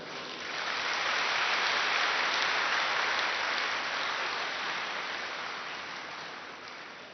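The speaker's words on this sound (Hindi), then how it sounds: "अपने लिए ही ताली बजाएं।" A large gathering at a spiritual talk claps for itself, a dense, even wash of applause that swells in quickly, holds steady, then slowly thins toward the end with no voices over it.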